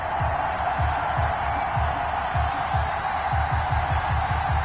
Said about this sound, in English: This crowd is ready as their guys get set to match up between the Minnesota Vikings and the Seattle Seahawks.